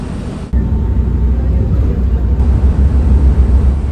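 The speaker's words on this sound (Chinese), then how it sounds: "堵车了，堵车了。" A low, constant rumble of idling engines in a street traffic jam, close and steady after a sudden cut-in at the start.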